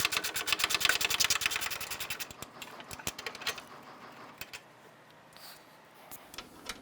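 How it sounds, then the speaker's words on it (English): Ratchet clicking rapidly as bolts on the upper radiator support of a 2012-2017 Toyota Camry are loosened, a fast run of close clicks that thins into scattered metallic ticks and taps. "Just going to loosen that and get in the back here."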